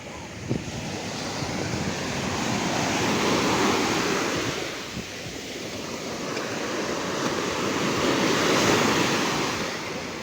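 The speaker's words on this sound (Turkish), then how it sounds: "Nasıl dalga var gördün mü? Çok aşırı dalga var." Sea waves rolling in and breaking on a beach, a broad continuous wash of surf swelling and easing in loudness, with wind buffeting the microphone throughout.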